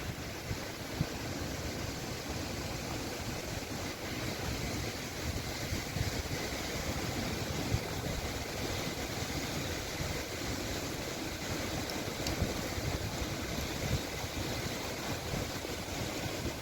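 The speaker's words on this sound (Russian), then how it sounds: "А вообще сильный ветер очень." Strong autumn wind on Mount Beshtau roars steadily and loudly as broadband rushing with gusty buffeting against the microphone, continuous throughout with no voices.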